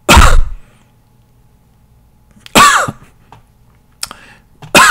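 Someone coughs and clears their throat in three sharp, loud bursts close to the microphone, each separated by near silence.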